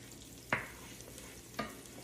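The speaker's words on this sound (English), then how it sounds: "look at the sizzle going on here" Chicken sizzling in pepper-infused oil in a frying pan, a quiet steady hiss with two sharper spattering bursts.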